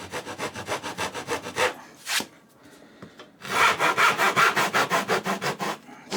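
A hand saw cross-cuts wood along marked knife lines in quick, rhythmic rasping strokes, close and loud, with a brief pause midway before a fresh run of steady strokes.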